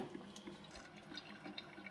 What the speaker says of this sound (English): It's boiling that water and sending it over the coffee grounds.